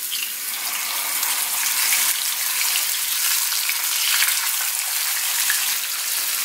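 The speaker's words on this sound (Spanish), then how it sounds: "le voy a poner poquito aceite. El suficiente para que se alcance a dorar el filete de mojarra." Mojarra fish fillet frying in a little oil in a pan, a steady close hiss and crackle of sizzling that holds evenly throughout with no talking.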